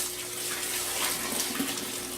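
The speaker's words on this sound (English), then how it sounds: "it's time to add the water to the Mash Tun" Water pouring steadily into a mash tun for brewing an ESB beer, a continuous close gushing rush with no pauses.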